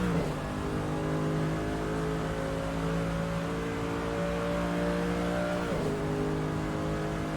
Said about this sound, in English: More aggressive with the throttle.